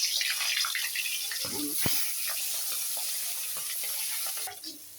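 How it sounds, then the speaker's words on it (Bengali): Pangas fish frying in hot oil in a pan for a bottle gourd and pangas curry, giving a steady broadband sizzle throughout with a brief clatter as the pieces go in, under a voice. "আমার তেলটা কিন্তু গরম হয়ে গেছে আমি এই পাশ দিয়ে এক সব মাছগুলো কিন্তু"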